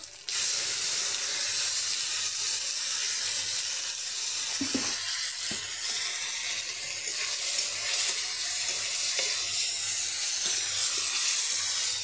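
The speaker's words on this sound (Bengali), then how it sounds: "এখানে আগেই মশলা পেস্ট করে রেখেছি, তো এটা এখন দিয়ে দিব" Spice paste hits a hot pan over a wood-fired clay stove and sizzles loudly and steadily, a dense continuous hiss close by with a few faint knocks, and no talking.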